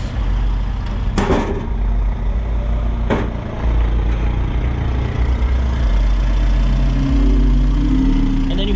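A Subaru Sambar kei van's engine idles steadily in a low, even drone for the whole stretch, with a couple of brief clicks near the start.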